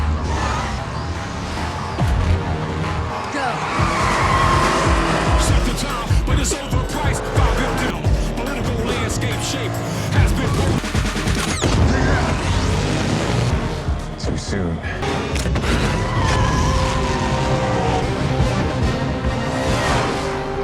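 Street race cars from Fast & Furious 9 roar and skid, with tire squeal, revving engines and crash-like impacts blended into a dense, loud film soundtrack that continues throughout.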